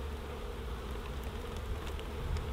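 Honey bees buzz steadily around a backyard beehive in fall, a dense, continuous swarm drone close by with no voices.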